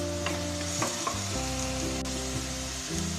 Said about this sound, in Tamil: வெங்காயம் 1-2 நிமிஷம் நல்லா வதங்கட்டும். நல்லா கிளறி விடுங்க